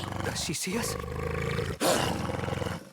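A wolf in a fantasy video game lets out a loud, sustained roaring growl that swells near the end, with a person's voice speaking over it.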